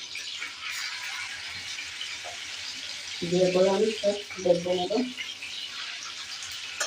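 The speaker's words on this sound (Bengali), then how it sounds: "তো এরকম করে আমি সব মাংসগুলো ভাজা দিয়ে দেবো।" Broiler chicken meat fries in a pan with a soft, steady sizzle and hiss throughout. A voice talks over the frying partway through.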